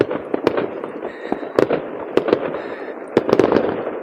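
New Year fireworks over snowy downtown Tønsberg, Norway: repeated sharp bangs and cracks at irregular intervals, some near and loud, others more distant, over a low rumbling crowd-and-street background.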